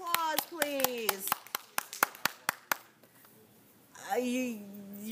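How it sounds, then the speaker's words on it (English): An audience in a classroom debate gives a short round of scattered, fairly sparse hand claps, then a voice speaks once the clapping dies away. "A round of applause, please."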